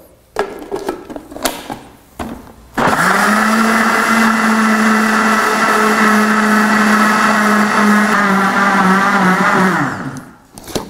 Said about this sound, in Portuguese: Então nós vamos bater tudo isso aqui